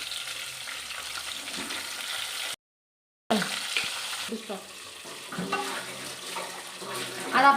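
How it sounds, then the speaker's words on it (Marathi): Water is poured onto a steel plate set over a pan of green-masala salted brinjal cooking in oil, with a steady splashing trickle over a low sizzle, broken by a short gap of silence. "पाणी ओतत आहे ताटामध्ये।"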